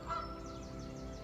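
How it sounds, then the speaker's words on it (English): Loud duck calls outdoors, a brief bird honk near the start over steady low background noise, with repeated calls continuing for about a second. "I have to keep on stopping and starting because of this duck just having the time of its life"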